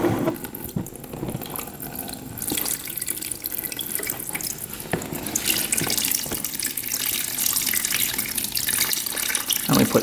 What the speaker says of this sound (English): Now if you open the cap up here, it'll come out really fast.